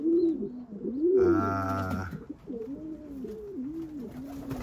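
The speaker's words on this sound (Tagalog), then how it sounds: "Ito po yung ibon na huling ibon natin dumating." A racing pigeon wearing a gold ring coos in a loud, close burst of low rolling calls, followed by softer repeated coos and other birds murmuring in the background.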